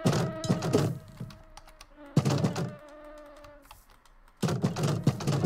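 Insect buzzing in a survival crafting game, coming in dense bursts at the start, middle and end with quieter droning gaps between, fairly close and loud.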